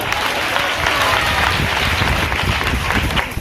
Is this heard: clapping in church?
yes